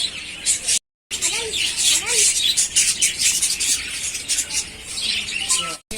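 Small birds, some of them white and yellow young ones, chirp and squawk in a lively outdoor aviary at Gwalior zoo, with scattered calls over steady background bustle and a brief dropout.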